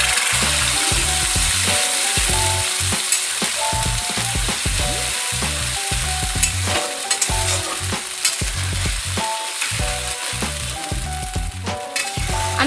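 Masala and tomato frying in a pan for aloo dum, stirred briskly, with loud, close sizzling cut by rapid, rhythmic scraping strokes throughout and no speech.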